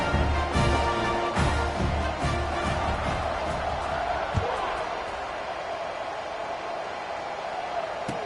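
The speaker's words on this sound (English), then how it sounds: "this crowd is buzzing after that last score" Stadium crowd buzzing after a touchdown at a football game, a steady broad murmur with a few thuds and whoops, under ongoing commentary speech.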